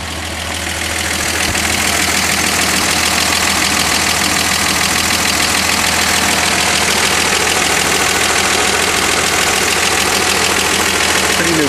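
A 1962 Dodge Dart 330's engine idles loudly and steadily up close, a constant even rumble with a faint ticking rhythm throughout.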